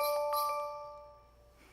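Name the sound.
sleigh bells ringing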